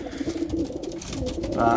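Racing pigeons coo softly and repeatedly in a loft, close by, with some background noise and a voice.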